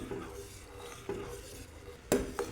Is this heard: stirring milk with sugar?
yes